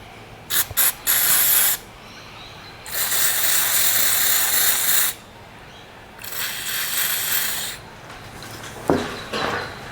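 An aerosol can of cleaner sprays into a carburetor in several loud hissing bursts, a few short spurts, then two longer sustained blasts and a weaker, sputtering final one as the can runs low.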